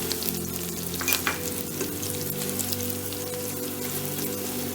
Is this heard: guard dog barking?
no